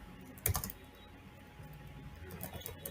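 Keys on a computer keyboard being typed as a terminal command goes in, with a brief louder cluster of clicks early, then scattered soft taps over low background hum.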